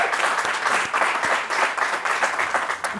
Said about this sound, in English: Round of applause for Amy.